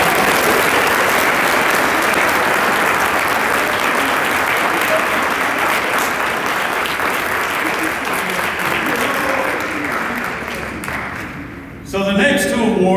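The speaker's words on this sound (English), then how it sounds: "Give her another round of applause." Large audience applauding at a youth academy awards banquet, a dense, loud, sustained roar of clapping for about eleven seconds that thins and fades before a voice begins talking at the end.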